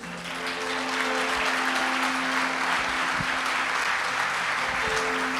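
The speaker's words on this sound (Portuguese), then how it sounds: "Pode aplaudir Jesus." Sustained applause from a church congregation during a Portuguese-language sermon, steady and full across the clip, with a low organ or keyboard tone held underneath and a few faint voices mixed in.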